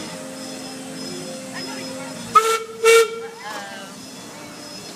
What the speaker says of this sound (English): What's the choo-choo say?